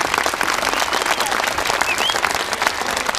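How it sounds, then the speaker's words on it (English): A round of applause from the audience at a comedy magic show, steady clapping from a moderate-sized crowd, close and fairly loud, with a faint whistle midway. "let's give her a nice round of applause as well"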